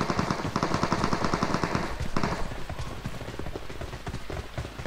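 Rapid, steady automatic gunfire in a shooting video game, a loud continuous rattle of close shots that thins slightly toward the end, with no voices over it.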